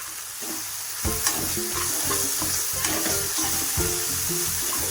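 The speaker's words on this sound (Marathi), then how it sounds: "बघा किती छान मसाला परततो" Masala and salt sautéing in oil in a pan for sprouted moth bean curry: a loud, steady close-up sizzle with repeated scraping stirs of a spoon, and no talk.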